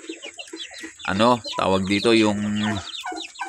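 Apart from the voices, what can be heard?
hens clucking on a farm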